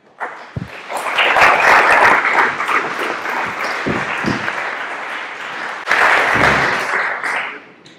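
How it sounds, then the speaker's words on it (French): Audience applause closing a French-language conference talk, swelling quickly into dense clapping, easing slightly, then surging again before fading out, close and loud. "Tous vos applaudissements."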